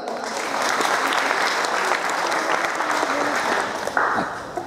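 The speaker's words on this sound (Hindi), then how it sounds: "एक जोरदार तालियां।" A crowd at a kirtan night in Suva, Fiji, breaks into steady, loud applause, a thick wash of clapping that holds for several seconds while a voice speaks briefly over it.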